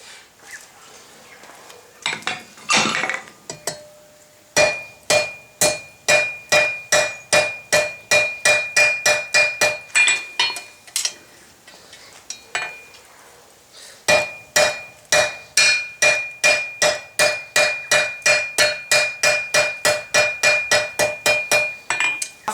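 A hammer strikes steel chain links on an anvil to forge-weld them, a long run of sharp, evenly spaced ringing blows that pauses once midway before resuming at the same quick rhythm.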